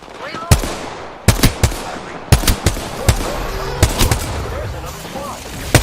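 Rapid bursts of video-game gunfire from an attacking enemy squad crack out loudly in repeated volleys, sharp automatic shots spaced through the clip over a busy battle background.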